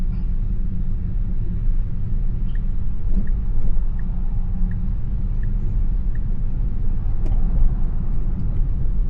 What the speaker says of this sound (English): Oh, well, we're about to hit some Bronx traffic.